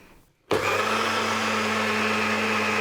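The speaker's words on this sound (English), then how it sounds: "if it's a really powerful blender, probably 45 seconds is enough" After a brief quiet moment, a blender blending nuts into plant-based milk abruptly whirs to life and runs at a loud, steady high-pitched whine.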